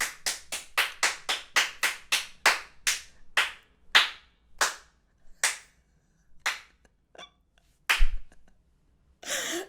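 A single person named Carmen clapping, a run of sharp, close claps that starts quick and regular, then slows and spreads out, with one heavier clap near the end.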